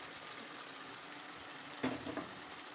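Sliced onions going into minced meat (qeema) in a pan where the oil has risen and the water has cooked off, giving a steady close sizzle with a brief burst of stirring clatter near the end.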